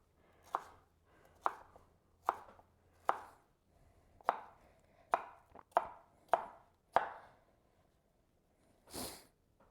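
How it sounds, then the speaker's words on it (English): Knife chops through kale salad vegetables on a cutting board, about ten crisp evenly spaced strokes close up, followed by a short breathy sniff near the end. "cut these into more manageable bite-sized pieces"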